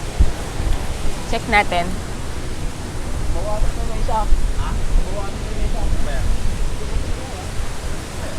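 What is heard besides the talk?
strong wind at the beach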